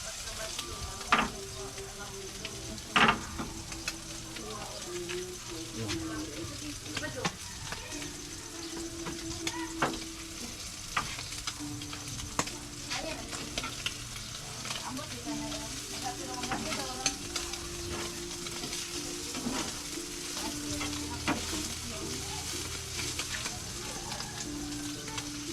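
Tortang dilis, an anchovy omelet, frying in oil in a pan: steady crackling sizzle with scattered pops and occasional scraping of a utensil, continuing throughout with faint background hum.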